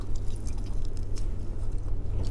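Someone bites into and chews KFC fried chicken, soft moist squishy chewing noises close up over a low background hum, without much crunch.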